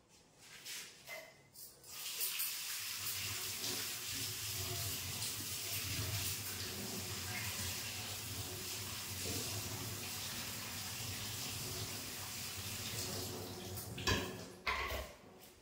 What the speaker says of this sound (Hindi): थोड़ा सा पानी डालूंगी, ज्यादा नहीं, 1 गिलास डालूंगी।